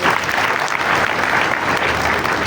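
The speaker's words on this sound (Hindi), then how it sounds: "सारा के लिए तालियां भाई।" A classroom group applauds for Sara, a student, in a Google Colab and Python lesson: dense, continuous clapping at close range throughout, without pause.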